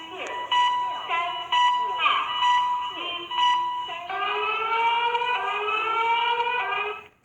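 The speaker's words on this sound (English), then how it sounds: "They used this as a siren, and the voice is counting down to 1" Chinese emergency alert siren: a loud, steady electronic wail with a rising pitch sweep in its second half, while a voice counts down over it.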